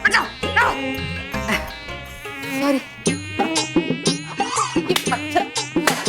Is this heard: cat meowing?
no